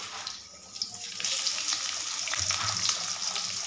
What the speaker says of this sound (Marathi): कांदा व्यवस्थित परतून घ्यायचा आपला